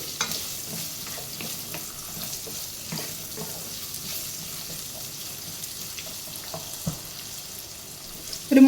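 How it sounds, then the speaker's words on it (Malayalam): Potatoes stirred and fried over a high flame make a steady sizzle with frequent spatula scrapes throughout, close and continuous, no voices. "മൂന്ന് മുതൽ നാല് മിനിറ്റ് വരെ അടച്ചു വെക്കാതെ ഇതുപോലെ ഹൈ ഫ്ലെയിമിൽ ഇളക്കിക്കൊണ്ടിരിക്കണം"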